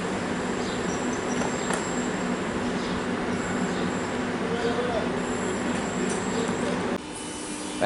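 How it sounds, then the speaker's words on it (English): A Melbourne suburban train moves off from Epping station, a steady rolling rumble with a faint high whine and a thin tone, heard from the platform over ambient noise; the sound drops slightly near the end. "And this train is now departing."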